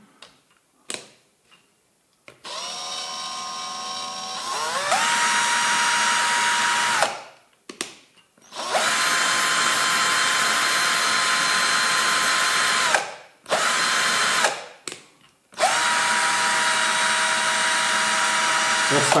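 An Einhell Blue Line 18V cordless impact drill driver runs in several long sustained bursts of steady whirring, separated by short pauses and start-stop clicks, loud and close, with brief speech in the gaps.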